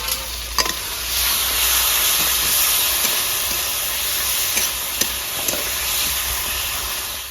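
Two chopped medium tomatoes go into a hot pan of spiced curry base for a cauliflower, potato and katla fish curry, giving a continuous loud sizzle and hiss with a few sharp clinks of stirring.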